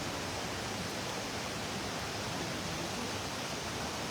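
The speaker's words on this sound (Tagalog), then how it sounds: "Malakas yung current ng tubig talaga." A strong river current rushes past during net fishing, a dense, loud, unbroken roar of moving water filling the whole clip with no voices.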